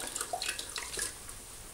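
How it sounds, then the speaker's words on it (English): Water is wrung from a grout sponge into a bucket during shower wall tiling. Faint splashes and trickling drips come close up in a short irregular burst, with no talking. "wring as much of the water out as you can"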